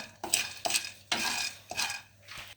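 A spoon scrapes and stirs murukku ingredients as they roast in a pan, in five separate rhythmic strokes with short pauses between them, fairly quiet and close, with no talking.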